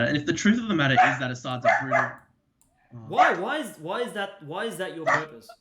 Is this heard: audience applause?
no